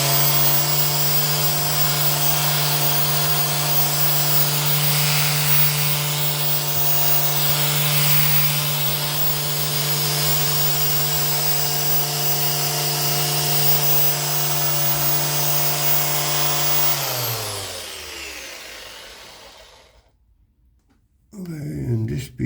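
A power sander whirs loudly and steadily on wood for a long stretch, its hum shifting slightly as it works, then winds down and stops near the end.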